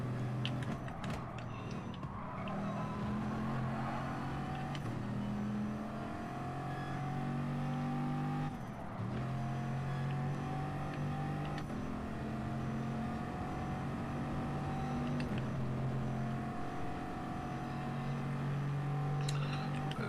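Race car engines in GT Sport on the Monza circuit drone steadily at close range, the pitch rising and falling through gear changes as other cars run nearby.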